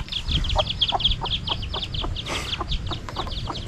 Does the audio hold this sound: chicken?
yes